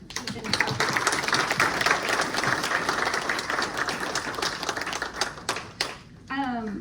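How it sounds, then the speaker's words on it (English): An audience at a public safety town hall breaks into steady applause, a dense, sustained clatter of clapping that fades near the end as a voice begins speaking. "So one more big round of applause for"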